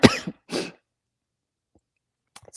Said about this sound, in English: I'm coughing today